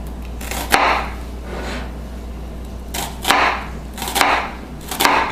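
A sharp knife slices through raw chicken on a cutting board while a chicken and cheese quesadilla is being made, giving a few separate, close cutting strokes that repeat at uneven intervals over a steady low background hum.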